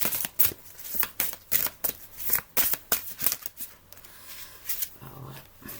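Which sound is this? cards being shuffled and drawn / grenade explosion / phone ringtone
cards being shuffled and drawn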